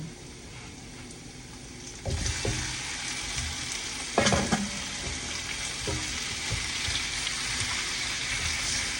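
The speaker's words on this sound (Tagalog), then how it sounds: "Gisa lang natin ang chicken hanggang sa lumabas ang sarili niyang mantika." Chicken pieces sautéing in a hot pan with garlic for Filipino tinola, a steady loud sizzle that jumps up as the meat goes in, with stirring scrapes and occasional clatter.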